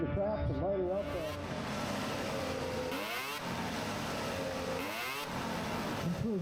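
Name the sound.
racing snowmobile accelerating through the speed traps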